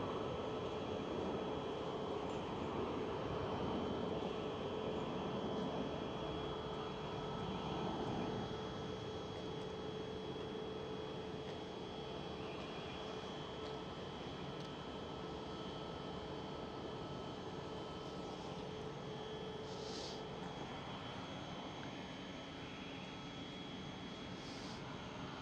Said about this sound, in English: KLM 737-700.